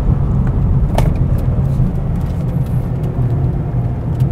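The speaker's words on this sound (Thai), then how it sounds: "เข้าโค้งลึกๆแล้วก็เติมเข้าไป" Mercedes-Benz E-Class on a race track, shifting down into a deep corner and then accelerating hard, its engine a steady loud drone with continuous road and wind roar throughout.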